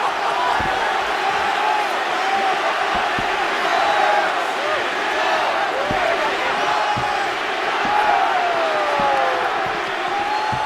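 A capacity arena crowd in the EA Sports UFC 6 video game roars continuously before a lightweight championship fight, with loud sustained cheering and scattered thumps throughout.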